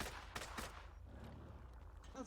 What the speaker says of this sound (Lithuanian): Iš kur čia šaudo